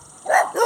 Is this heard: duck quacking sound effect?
no